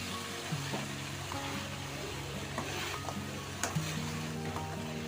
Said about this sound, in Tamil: இப்போ நல்லா கிளறி விட்டுடலாம்.